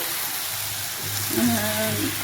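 Potatoes fry in oil tempered with whole garam masala and a pinch of sugar in a home kitchen, giving a steady, even sizzle that stays moderately loud throughout, with a faint low hum appearing partway.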